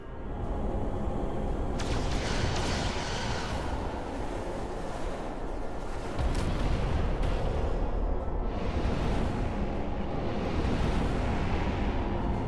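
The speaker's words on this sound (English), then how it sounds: "Firing photon torpedoes." Photon torpedoes firing from a starship in Star Trek: Resurgence, heavy booming blasts over a dense rumbling roar, with sharp bursts near two and six seconds and continuous loud layered impacts.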